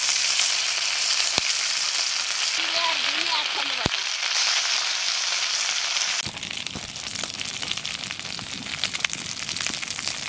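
Ginger paste fries in hot oil with bay leaf, cloves, cinnamon and cardamom for a homestyle magur fish curry. A loud, steady sizzle runs throughout and turns coarser and more crackling partway through.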